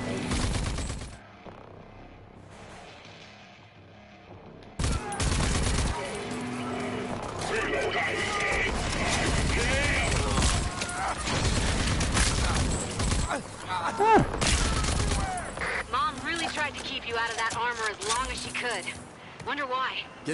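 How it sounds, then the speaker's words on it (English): Gunfire in the video game Rage 2, bursts of shots mixed with game music and effects, starting loud after a quiet opening and continuing in dense volleys, with speech over parts of it. "Why is he shooting?"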